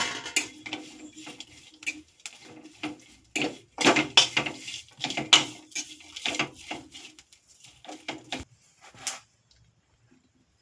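Green chillies, fresh ginger and one or two garlic cloves being roasted in a pan for ridge gourd chutney, with intermittent clinks and scrapes of a utensil against the pan, fairly quiet and close, no talking.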